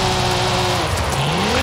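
A manual Cadillac CT4-V Blackwing with turbo and anti-lag drifts in Forza Horizon 5, its engine droning loudly and close before the pitch drops and climbs again as the tires scrub.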